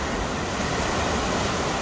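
Brown, flood-churned sea waves surge and break steadily on Saidia beach, a loud continuous roar of surf with wind buffeting the microphone and no voices.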